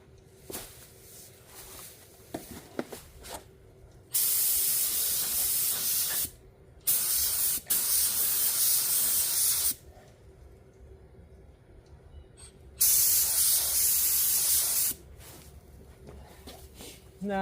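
Spray gun laying primer onto a stripped Farmall 450 tractor, with several separate steady hissing bursts of a few seconds each, broken by quiet gaps holding low background noise and faint movement.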